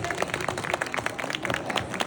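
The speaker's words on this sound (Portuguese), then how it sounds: "Quero uma salva de palmas bem forte para ele, Gustavo Alonso." Audience applause at a Gramado Summit 2026 talk, a dense burst of many hands clapping close and steady for a couple of seconds.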